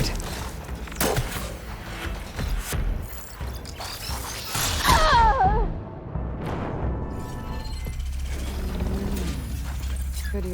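A robotic machine creature moves in Horizon Forbidden West, with clanking, ratcheting mechanical whirs and creaks that swell to a loud burst midway and then settle into steady grinding under a low background hum.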